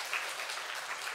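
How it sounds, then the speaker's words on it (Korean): Congregation clapping to welcome a new member at a Korean church Sunday service, a steady, moderately faint wash of applause heard alone. "박수로 환영하도록 하겠습니다."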